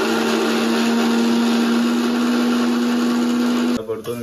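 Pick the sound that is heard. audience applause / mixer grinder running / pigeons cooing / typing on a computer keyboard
mixer grinder running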